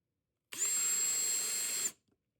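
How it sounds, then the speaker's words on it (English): A power drill runs in one steady high-pitched whine of about a second and a half, starting and stopping abruptly, loud and close with no talk over it. "Drill."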